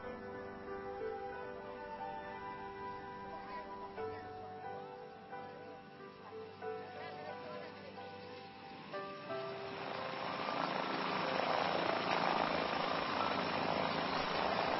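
A small medical aid plane touches down on a rough, short, wet grass runway in Venezuela, its propeller engine droning steadily before the rumble grows into a broad, louder roar of rolling over the uneven ground.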